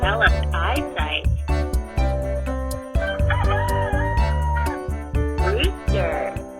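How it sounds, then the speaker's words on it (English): A rooster crows, its call rising over a busy, bouncy children's music backing with plucked and percussive notes, a couple of crow-like phrases standing out clearly near the start and again toward the end. "Rooster."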